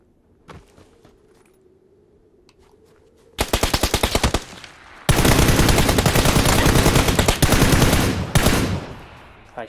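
Automatic weapon fire in PUBG on the snowy Vikendi map: after a quiet stretch with a single crack, loud rapid bursts erupt and continue in long sustained volleys close by.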